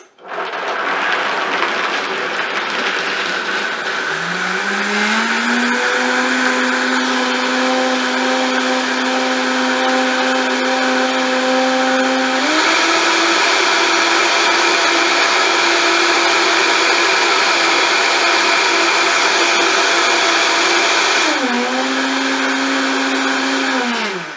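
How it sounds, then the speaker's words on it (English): A blender whirs through soaked cashews for nut milk, a loud steady motor whine that ramps up in pitch, holds, steps higher, then dips and recovers near the end, running alone without talk. "I'll place the cashews right inside, and then we'll blend them"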